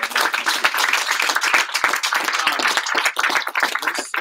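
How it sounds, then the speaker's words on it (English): Audience applause with a burst of steady, dense clapping from a crowd at a sales meeting, loud and continuous throughout, fairly close, with no talking over it. "So give him a huge round of applause"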